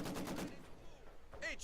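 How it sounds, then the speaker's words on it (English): Machine gun fire in the video game Company of Heroes 2, a short rapid burst of shots followed by quieter battle noise and a brief distant sound. "I have an MG that'll suppress his units"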